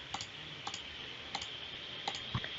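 Computer mouse clicks while copying pipe features in mapping software: about five quiet, sharp clicks spaced irregularly over a soft background hiss, with no talking.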